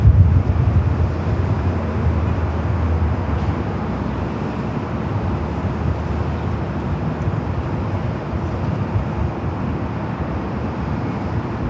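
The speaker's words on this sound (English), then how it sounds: "have a 777 freighter flying above us here" An Air China Cargo Boeing 777 freighter passing overhead near Los Angeles airport, a broad, steady jet roar that holds loud throughout with wind buffeting the microphone.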